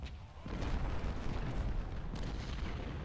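Artillery fire in Ultimate General: Civil War, heard as a rumbling, continuous wash of distant cannon booms with no clear separate blasts, steady throughout.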